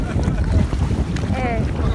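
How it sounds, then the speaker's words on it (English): Boat crossing the sea off the Jamaican coast, a low rumbling wash of engine and water with strong wind buffeting the microphone, heard close and steady, with brief faint squeaks over it. "So now we're going on the boat to get across."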